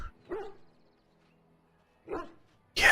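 A dog in the video game Dragon Age Origins gives two short, separate barks against a quiet background, followed by a sudden louder burst of sound at the end.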